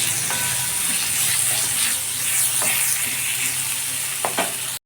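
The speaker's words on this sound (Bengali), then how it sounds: "ডাঁটাগুলোকে আলুর সাথে সামান্য কষিয়ে নিয়েছি" Gourd stalks and potato pieces stir-fried in a pan give a steady, close sizzle with scraping stir strokes throughout, ending in a few sharp utensil knocks.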